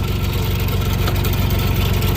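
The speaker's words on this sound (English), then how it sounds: "that engine's shaking like crazy" A skid steer engine idles with a deep, rough, pulsing throb, shaking hard on worn motor mounts. It sounds loud and close, holds a steady rhythm and plays alone.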